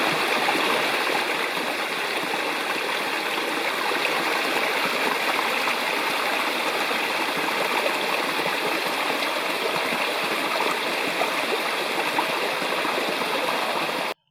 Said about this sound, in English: Here's a couple of videos of first Longarm Creek and then a side creek.